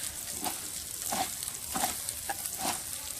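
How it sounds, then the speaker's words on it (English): Rice fries in a pan toward golden brown, a close, steady sizzle broken by regular stirring scrapes roughly every half second. "So I have to fry it until it is golden brown"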